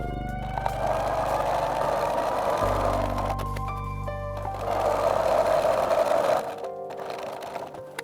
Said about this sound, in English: It is important when you sew the channels, the boning channels, that you go from one side to the other.